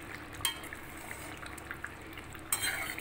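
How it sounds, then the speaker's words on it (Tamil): Pepper chicken masala frying in a pan for a semi-gravy, with a steady low sizzle and a couple of sharp utensil scrapes against the pan, near and without talk. "chicken pepper masala fry ஆகிட்ருக்குது"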